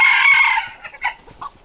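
Bantam chickens in a coop: a loud, close rooster crow opens, followed by several short scattered clucks from the flock, with no talking over them.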